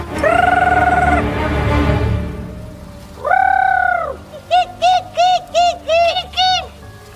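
A human voice mimics a bird, giving two long cooing calls and then a rapid run of short, repeated hoots, loud and close.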